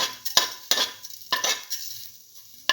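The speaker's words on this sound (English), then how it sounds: "Now put in the fenugreek seed" Fenugreek seeds dropped into hot oil for a bottle gourd and split pigeon pea rice dish, giving short crackling sizzles alongside a few sharp utensil clinks against the pan.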